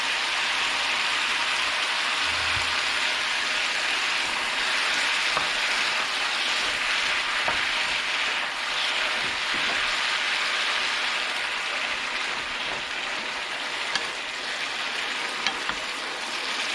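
Chayote and egg stir-frying in a hot pan sizzle loudly and steadily throughout, a close, rain-like hiss with occasional soft taps of stirring.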